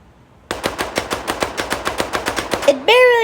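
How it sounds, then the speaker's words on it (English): Submachine gun fire from a video game battle against an Omnidroid: a loud, rapid string of about fourteen evenly spaced shots, followed by a sustained electronic whine. "The first soldier, Special Forces to be exact, strikes the Omnidroid with a submachine gun."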